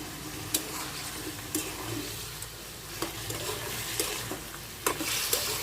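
Small baila fish are stirred into spice masala sizzling in a pan, cooked village style. A spatula scrapes and clinks roughly once a second over a steady, close frying hiss.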